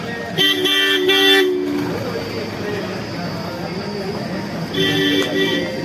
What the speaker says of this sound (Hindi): ये भैया स्कार्ट गाड़ी आ गई है, ये स्कार्ट जा रहा है।